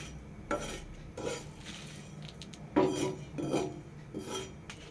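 Fennel seeds, ajwain and chilli are stirred in a pan over a low flame, giving a series of dry scraping strokes against the metal at an uneven pace, close up, with no talking.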